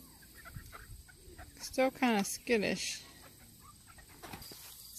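Several chickens cluck and at least three roosters squawk in a short cluster of calls, with someone speaking briefly nearby.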